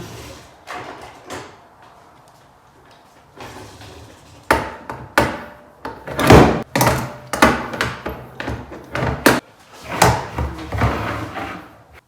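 A can of beans is opened in a kitchen with a run of sharp metallic clicks, knocks and clunks, loud and close, with quieter handling noises before them.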